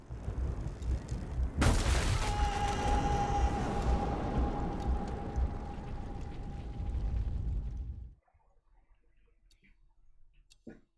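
Gunfire in the video game 11-11 Memories Retold: a sharp loud blast, then a sustained rumbling wash with a steady ringing tone that cuts off abruptly into near silence.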